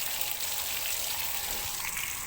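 A hose runs water gently to flush a Tohatsu 9.8 outboard motor. It makes a soft, steady splashing hiss, quiet and even throughout, with no voices.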